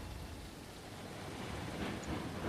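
Steady rain falls in the Railroads Online video game, a continuous, even hiss of downpour that swells slightly toward the end, with no talk over it.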